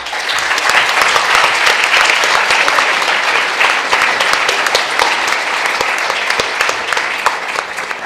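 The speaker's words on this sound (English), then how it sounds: "So a very big applause for our general coordinators, Lorenza Fonzari and Professor Massimo De Fo" Sustained audience applause fills the room at the opening ceremony of a Model United Nations conference, dense steady clapping from a large crowd, loud and close, holding evenly throughout with no speech over it.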